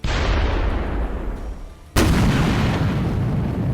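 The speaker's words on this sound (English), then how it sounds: "The tank gets close and fires its first shot" A Ukrainian tank firing its main gun in combat, with a heavy roar of battle noise, then a single sharp, very loud blast near the middle that rumbles and echoes out afterward.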